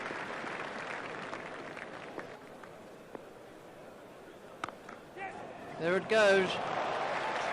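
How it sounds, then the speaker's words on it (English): Crowd applause in the EA Sports Cricket 2002 PC game during an India vs Australia one-day match, a steady wash of clapping and cheering under a commentator's voice, swelling near the end. "Crowd were brought to their feet by that shot."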